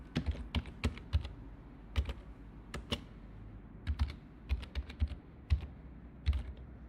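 Typing on a computer keyboard while entering a dimension label in SolidWorks, heard as close, crisp irregular key clicks in quick clusters with brief pauses, alone against a quiet background.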